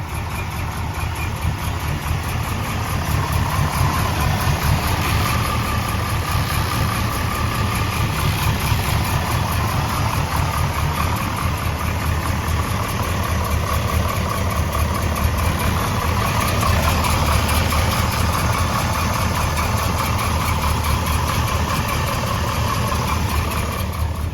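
A 1967 Chevrolet Chevelle sits idling, its engine holding a steady, loud, even rumble with no revving for the whole stretch.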